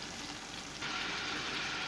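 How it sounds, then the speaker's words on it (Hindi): Beef frying over medium flame with whole spices and golden onions for Memoni biryani, a steady dense sizzle that swells louder partway through and holds, close and continuous. "अब मीडियम फ्लेम पर गोश्त की भुनाई स्टार्ट करेंगे।"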